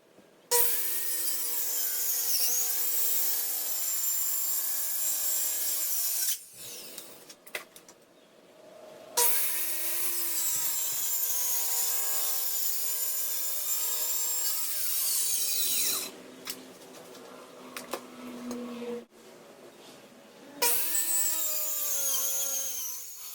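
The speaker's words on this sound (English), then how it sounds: "I used a circular saw for the primary cuts to ensure I had a nice straight cut edge" A circular saw makes the primary straight cuts through plywood for a miter saw station workbench, with long sustained whining passes broken by short pauses, loud and close with no talking.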